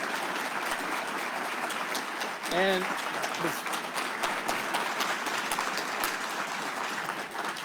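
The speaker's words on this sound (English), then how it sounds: "We'll give them a round of applause for this forum tonight." An audience at a 2024 Johnson County sheriff candidates' forum breaks into steady, dense applause that carries on for several seconds, with a short spoken word heard over it early on.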